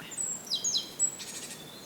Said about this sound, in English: We're actually hearing birds.